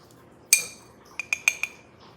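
A metal teaspoon clinks against a container while measuring baking soda for banana bread: one sharp ring, then four quick lighter taps close by, with no talking.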